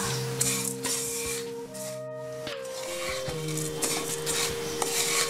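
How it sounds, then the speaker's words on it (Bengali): Vermicelli and sugar are stirred in a pan, a continuous close rubbing and scraping of a utensil against metal with a faint sizzle beneath. Soft background music plays. "এখন চিনি দিয়ে পুনরায় সেমাইগুলো 2 মিনিট ভেজে নেব।"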